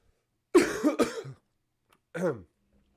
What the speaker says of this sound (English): Let me just turn off my mic for a minute because I have to cough.